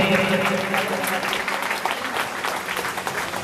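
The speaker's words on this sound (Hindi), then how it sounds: "तालियों के साथ में स्वागत करें" Applause from devotees welcoming a guest at a Bhagwat Katha religious gathering, moderate and steady over a few seconds amid hall ambience.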